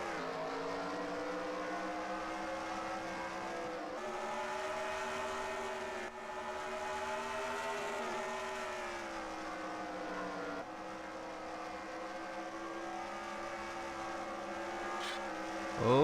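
Race cars run a qualifying race at the Eldora track, heard as a faint, continuous droning engine roar with slowly rising and falling pitch and no clear breaks.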